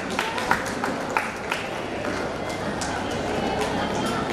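An audience at a youth community stage event claps in a steady, moderately loud patter of applause, with a few sharper nearby claps and chatter and background voices mixed in.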